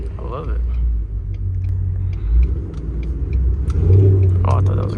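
A straight-piped 5.0 car engine rumbles loudly at night, with low growling surges and rising revs as it downshifts; someone speaks over it early and again near the end.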